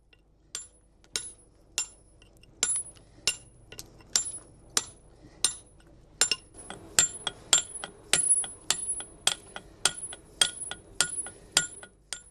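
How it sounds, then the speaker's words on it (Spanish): A stonemason drives a point chisel with a hammer into black Jurassic marble. Crisp, ringing metallic strikes come one at a time, slow and spaced at first, then quicker and more regular, close up in a quiet space. "Para rebajar el desalabeo y dejar la superficie plana, Pedro utiliza el puntero"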